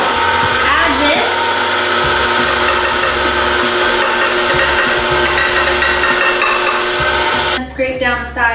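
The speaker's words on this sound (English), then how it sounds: "Let's go ahead and slowly add our sugar mixture to the stand mixer." Stand mixer beating pumpkin pie filling as sugar mixture is added, a steady loud motor whir running continuously before cutting off near the end.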